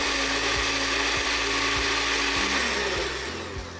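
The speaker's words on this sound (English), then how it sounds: "Put it back in the blender. Try to go on a high speed and just let it do the work." A blender runs at high speed on a smoothie with protein powder, a loud continuous whirring roar with rhythmic thumps as the contents churn, winding down slightly at the end.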